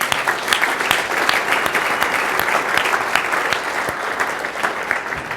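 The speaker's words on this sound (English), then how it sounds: "Please help me thank them by a round of applause." A seated audience at a legal conference gives a sustained round of applause, dense and even clapping from many hands filling the room for several seconds with no one speaking over it.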